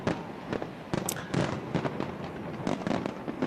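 New Year's fireworks explode over London in dense rapid bursts and crackles, a constant barrage of many overlapping bangs heard from a distance with no talking.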